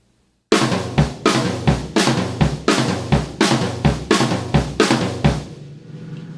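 A drum fill split between snare, rack tom, floor tom and bass drum, with about a dozen loud, even hits in a driving rhythm that end on a ringing crash wash.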